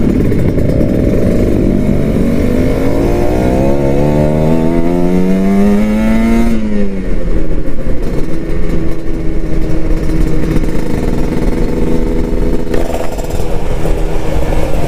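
A Kawasaki Ninja RR motorcycle accelerates on a busy road, its loud, close engine whine climbing steadily in pitch, then dropping at a gear change and pulling again at a steady high drone.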